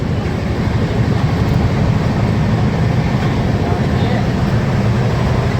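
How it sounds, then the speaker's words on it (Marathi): A steady, broadband rumble and rattle of a moving train fills the clip, constant and fairly loud with no clear pauses. "हे बघा आमची दिव्यांग ट्रेन हे आहे मस्त अगदी आरामात चालू आहे"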